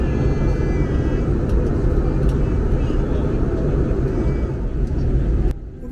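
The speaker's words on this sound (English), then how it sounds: "Landing in this moment." Wizz Air Airbus A321 airliner on its landing approach into Lübeck gives a loud, steady cabin roar and engine rumble throughout, cutting abruptly to quieter sound near the end.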